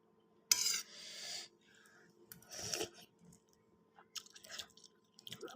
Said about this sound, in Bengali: চামচ দিয়ে খাইতেছি